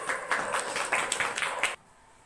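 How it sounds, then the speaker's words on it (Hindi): An audience claps in a short burst of applause at a New Year celebration event, welcoming a vice principal, and the clapping stops abruptly after about a second and a half. "उनका जोरदार तालियों के साथ स्वागत करेंगे।"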